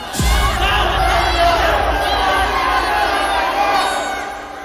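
A large riot crowd shouts angry slogans all at once, a dense loud roar of many overlapping voices that swells quickly after a sharp onset and holds steady before easing slightly at the end.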